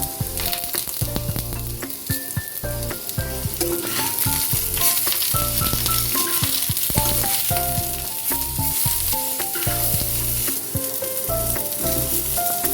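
Bottle gourd greens and stalks fry in a pan alongside diced eggplant and other vegetables. A steady, even sizzle runs the whole time beneath louder melodic background music.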